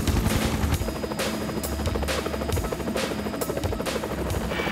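A police helicopter hovers 1,000 feet over the centre of Sheffield, heard as a continuous loud rotor thrum with rhythmic blade chop and a steady engine whine, with no talking.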